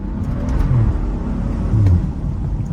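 A BMW 335i F30 with full bolt-on modifications makes a continuous loud, low exhaust drone during a hard acceleration pull, swelling slightly in the middle.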